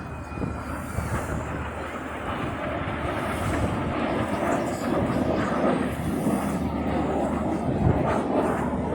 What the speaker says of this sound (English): They'll look to pass each other with only 30 metres, that's only 100 feet between wingtips to wingtips, in a manoeuvre called the double roll.